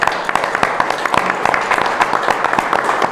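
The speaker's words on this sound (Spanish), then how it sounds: "Les dedico un aplauso." Crowd applause at a retirees' protest rally: loud, steady clapping from many people runs unbroken through the clip, with a voice or two faintly under it.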